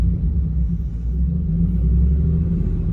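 White pickup truck engine idling steadily, a low, even rumble close by with no speech.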